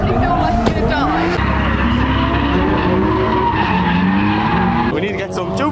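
Mazda MX-5 drifting at Santa Pod Raceway, a loud continuous tire skid and squeal with a revving engine close by for the whole stretch, shifting pitch as the car slides.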